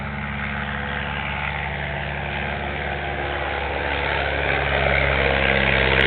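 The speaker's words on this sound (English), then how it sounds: "Down the hill comes the 1934 de Havilland Tiger Moth, Dave King at the controls." A 1934 de Havilland Tiger Moth biplane engine drones steadily at low idle, a rough, even rumble that grows slightly louder toward the end.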